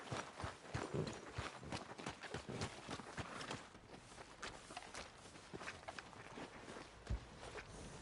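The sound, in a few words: horse hooves clip-clopping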